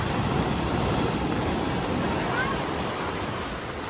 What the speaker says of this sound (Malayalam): തിര കൂടുതലായിട്ട് വരുന്നത്.